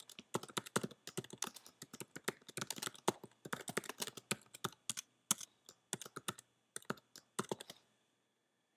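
Rapid typing on a computer keyboard while entering a feed name and Twitter username, with dense irregular bursts of close, crisp key clicks running steadily for several seconds without any voice.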